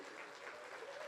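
A conference audience claps after a technical talk on a festival stage, a faint, distant, continuous patter of applause heard briefly.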